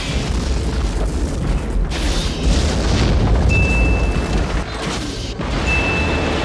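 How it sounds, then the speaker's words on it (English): An explosion effect from the film Wild Wild West, with buildings cut by explosives: a loud, sustained rumbling roar with a heavy low-end boom that fills several seconds, and a thin whining tone briefly above it. "Now you're using explosives to cut those buildings and give us the desired visual effect."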